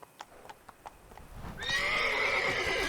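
A horse in The Witcher 3 video game gives a few soft hoof clops, then breaks into a loud, sustained whinny that fills the rest of the moment, with no voices over it.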